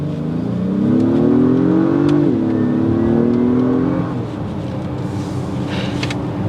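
A 2022 Acura MDX Type S SUV engine drops a gear and accelerates, its tone climbing steadily, shifting once, then pulling harder before fading into road noise.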